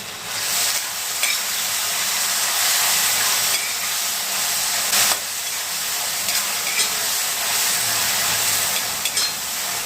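Onion, cauliflower, tomato and other vegetables sautéing in a pan, with a steady bright sizzle and occasional stirring scrapes throughout, loud and close.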